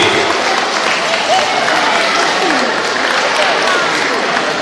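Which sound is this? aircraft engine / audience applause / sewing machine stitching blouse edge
audience applause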